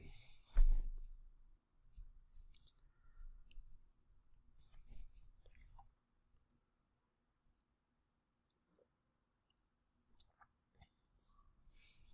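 A computer mouse clicks a few times at a desk while submitting a form, small sharp ticks close by and quiet, followed by near silence.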